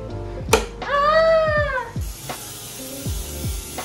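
A human voice imitates a cat's meow with one drawn-out, wavering call between short clicks and knocks, close and fairly loud in a quiet indoor room.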